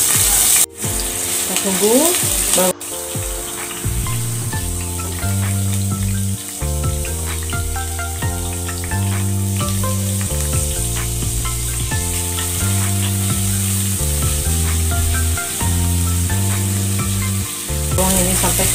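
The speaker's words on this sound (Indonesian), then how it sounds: "Saya tumis dulu bawang merah dan bawang putihnya." Chopped shallots and garlic sauté in hot oil with a steady bright sizzle, heard under background music with a brief spoken phrase at the start.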